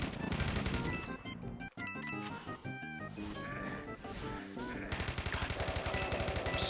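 Cupid gun firing in the Doom: The Golden Souls 2 video game, loud repeated shots over busy game music, with a pause near the middle before dense firing resumes.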